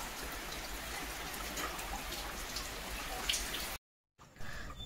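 Rain dripping after a light shower outdoors, a steady dense patter of drops that runs unbroken, cuts to silence briefly near the end, then resumes more faintly.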